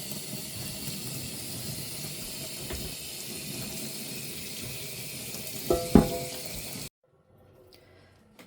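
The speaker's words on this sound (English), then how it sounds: "And some boiling hot water straight from the kettle." Boiling hot water from a kettle pours steadily onto a rusty, greasy cast iron griddle with a continuous hissing splash, a brief clatter near the end before it cuts off.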